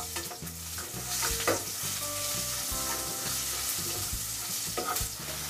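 Dried chilies, mustard seeds and urad dal crackle and sizzle in hot oil, with repeated scraping of a spoon stirring the pan close by.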